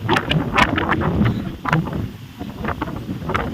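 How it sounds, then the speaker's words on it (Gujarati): Strong morning wind after rain in a rural village near Botad buffets the microphone in gusty, uneven roaring bursts, loud and close, with no speech. "આજ તો સવારનો પવન છે ને જીડી દે છે ફૂલ પવન ચાલુ થઈ ગયો"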